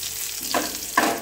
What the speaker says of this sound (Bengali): ফার্স্ট আমি পাঁচফোড়ন আর তেজপাতাটা দিয়ে দিচ্ছি এবং গোটা গরম মশলাটা দিয়ে দিচ্ছি